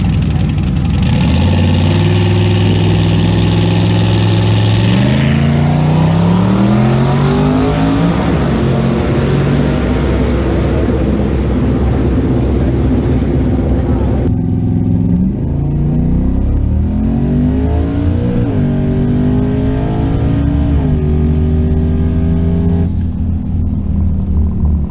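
A twin-turbo third-generation Camaro engine roars loud and close, revving and accelerating in rising sweeps. The pitch drops back between pulls, with one abrupt change partway through.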